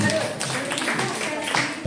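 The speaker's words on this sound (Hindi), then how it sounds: "बहुत ही एक बार जोरदार तालियां" At a school event honouring grandparents, an audience claps briefly, scattered hand claps mixed with nearby voices.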